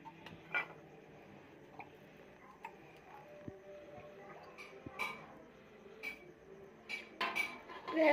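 A pot or utensil is washed by hand in a quiet home kitchen. Faint, sparse metallic clinks and knocks are spaced apart, with a few louder clatters near the end.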